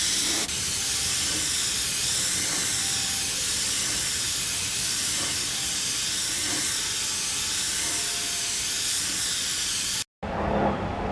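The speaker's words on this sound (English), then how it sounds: "even airbrushing this stuff, it's always best not to put too much paint on at once" An airbrush sprays coats of paint onto a motorcycle fairing during an FZR/Ninja trackbike repaint, a steady, loud, close hiss running unbroken for about ten seconds before cutting out.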